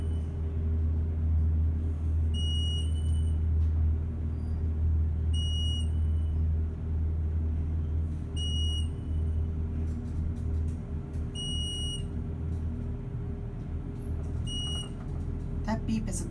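An Eastern traction elevator in a Pittsburgh apartment building sounds a high, thin beep five times at regular intervals over a loud, steady machinery rumble, with a person talking throughout.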